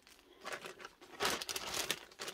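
Plastic bag crinkling and rustling while a reborn baby doll is unpacked, in close, irregular bursts of crisp rustles that swell loudest near the middle of the short clip.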